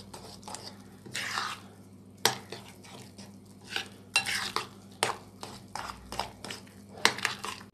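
A spoon stirs a black-eyed pea and turmeric mixture for meatless shami patties in a pan. It makes irregular, close scraping and clinking strokes against the metal over a low background hum.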